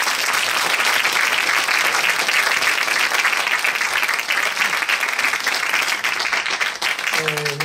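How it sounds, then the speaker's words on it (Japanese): Audience at a film premiere screening and talk show applauds to welcome the director onstage; dense, steady clapping fills the room for several seconds before a voice begins speaking at the very end. "拍手でお迎えください。"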